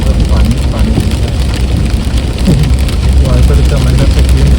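Heavy rain drums hard and constantly on a car driving a highway near Bangalore, a dense, loud wash of drops over road and engine noise, with occasional voices underneath.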